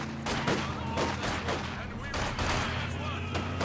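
Machine gun bursts and scattered gunfire from a Company of Heroes 2 battle rattle on continuously at mid volume, while a commentator talks over the combat.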